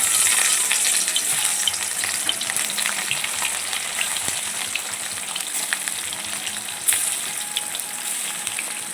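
Whole fish pieces frying in hot oil in a village-style kitchen, a loud, dense, continuous crackling sizzle that holds steady throughout with occasional faint pops and clicks.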